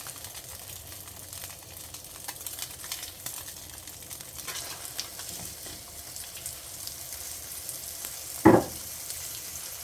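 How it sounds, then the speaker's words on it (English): Steak sizzles in a pan with a steady, fairly quiet frying crackle, heard up close with no talking, and a short louder clatter breaks through about two-thirds of the way in. "Get it fried up."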